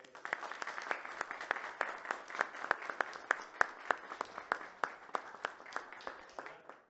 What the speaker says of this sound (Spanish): Con ustedes, un fuerte aplauso para él